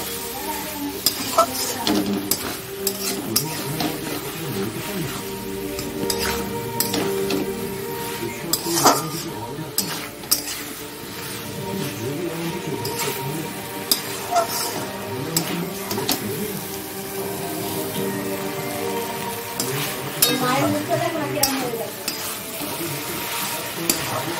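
Potato curry with prawns being sautéed in a pan, loud close sizzling under repeated scraping and clinking of a spatula against the pan, continuing steadily throughout.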